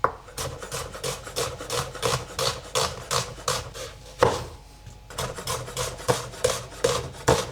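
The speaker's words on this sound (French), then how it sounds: "on commence par éplucher 2 oignons, puis je les émince" A knife slices onions on a cutting board in a quick, regular series of close, crisp chops, about two per second, briefly pausing midway before resuming.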